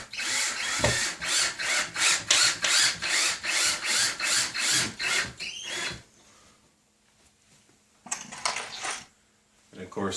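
Screw driven into drywall on a missing-stud patch job: a rapid run of about a dozen rhythmic ratcheting drill bursts, close and loud, stops, then after a quiet pause a short final burst.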